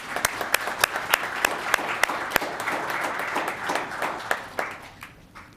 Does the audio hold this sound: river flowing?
no